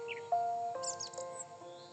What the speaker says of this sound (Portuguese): ouvindo a melodia, o barulho dos pássaros, o som da natureza